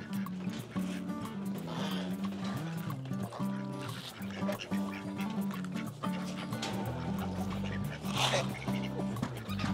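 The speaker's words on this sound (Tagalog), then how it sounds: "So, nag-iingay na yung mga ducks." A flock of ducks quacks noisily before feeding, a dense overlapping chorus of nasal calls mixed with splashing water, steady and fairly close, with a voice talking at times.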